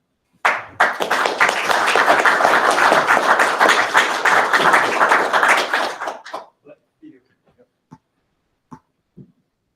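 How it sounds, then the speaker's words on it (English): Audience applause at a conference award ceremony, a dense burst of clapping from a large crowd that starts abruptly, holds steady for about six seconds, then thins to a few scattered late claps and taps. "You may now applaud."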